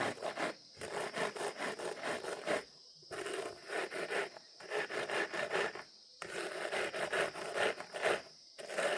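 Coriander seeds are rubbed under a shoe to split them, a close rhythmic gritty scraping in repeated bursts with brief pauses between strokes.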